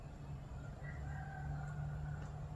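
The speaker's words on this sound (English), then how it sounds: "Rooster." A rooster crows on an Arkansas homestead, a faint, drawn-out call carried over a steady low hum from a nearby running dryer.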